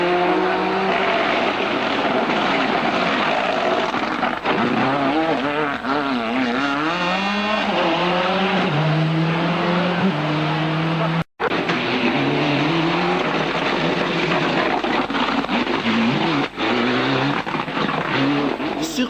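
A Ford Escort Cosworth Group A rally car races a stage in a 1998 national rally, its engine screaming and revving hard through gear changes, loud and close throughout with a brief cut partway.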